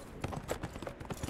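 Horse hooves clip-clop at a quick, steady trot in the video game Neverwinter, with close, even hoofbeats repeating throughout.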